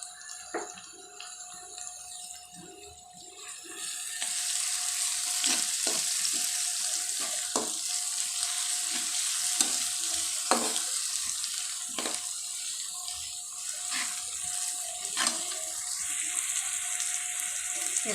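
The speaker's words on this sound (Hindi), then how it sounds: "अब लहसुन के बाद हम इसमें ज़ीरा भी ऐड करेंगे।" Cumin seeds and garlic sizzle in hot oil in a pan, a steady hissing fry with scattered crackles and spoon clinks against the pan, close by and continuous, with no speech.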